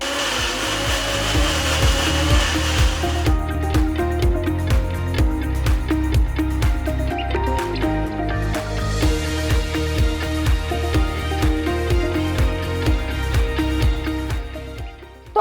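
Mixer grinder blending red chili garlic chutney with lemon juice, a loud close whirring grind with rhythmic pulsing churn that runs continuously and cuts off at the end.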